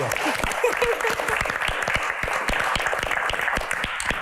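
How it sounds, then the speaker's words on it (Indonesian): Audience applause during a Q&A event, dense, continuous clapping from a crowd held at a steady level throughout, with a voice briefly audible near the start. "Tepuk tangan untuk ayah dari Mbak Anggun."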